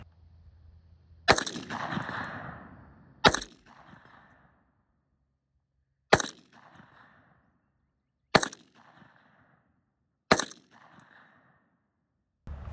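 An FN F2000 Belgian bullpup rifle fires five loud single shots spaced about two seconds apart, each a sharp crack followed by a short echoing tail, with quiet pauses between.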